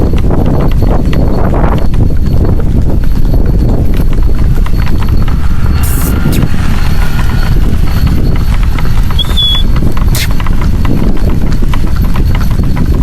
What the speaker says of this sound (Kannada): ನೋಡಿ ಈ ರೋಡ್ ಹತ್ಕೊಂಡು ಹೆಂಗ್ ಯಾತ್ರೆ ಬರ್ತದೆ ನೋಡಿ ಕುದುರೆ